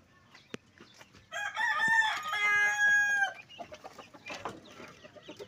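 A caged gamecock rooster, weak and ailing, crows once loudly at close range, with scattered clucks and faint background noises before and after the crow.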